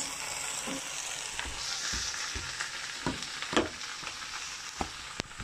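Leeks and potatoes sizzle in butter in an overfull small saucepan, a steady close frying hiss broken by irregular scrapes and knocks of stirring.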